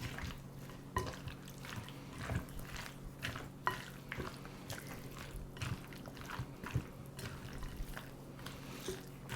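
Turkey pieces are mixed with gravy in a bowl, giving soft, wet squelching and dripping sounds in an irregular rhythm, quiet and close.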